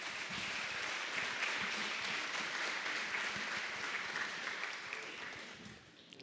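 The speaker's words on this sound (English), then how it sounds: "Let's give Tim and Bobby Jo a round of applause" An audience at a chamber of commerce awards event applauds for the honorees, a steady, fairly distant round of clapping that tapers off near the end.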